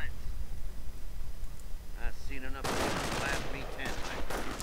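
Rifle gunfire in a World War II strategy game, riflemen opening up on grenadiers in the open: a dense burst of overlapping shots erupts midway and keeps crackling loudly, with some voice-like sounds faintly under the start.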